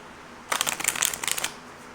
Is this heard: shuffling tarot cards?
yes